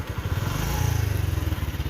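A motorcycle passes on a mountain road, its engine putting out a steady, close, chugging pulse with a slight rise before it eases off.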